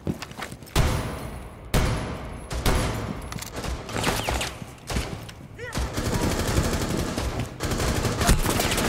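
Heavy gunfire in Rainbow Six Siege comes as repeated bursts of automatic fire with sharp cracks and thuds, loud and close, separated by short pauses, while voices talk excitedly over it.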